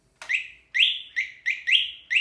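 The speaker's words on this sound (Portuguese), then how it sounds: "Aí buzina." A high, chirpy electronic car horn, sounded through a universal aftermarket module, beeps six times in quick, uneven bursts, loud and close with silence between.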